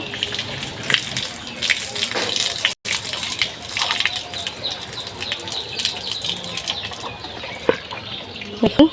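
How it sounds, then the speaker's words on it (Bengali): Water poured out of a bowl of washed desi chicken meat in a home kitchen, a steady splashing gush with short breaks and a few knocks near the end. "গোশগুলো ধোয়া হয়ে গেছে পানিগুলো ফেলে দিচ্ছি"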